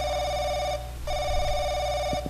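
A telephone rings in the horror video game Paranoiac, a loud electronic trill that sounds in two long bursts with a short gap between them, over a low game drone and no talk.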